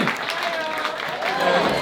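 Audience applause at a poetry event, a steady wash of clapping from a crowd honoring the poets, lasting throughout and mixed with some voices.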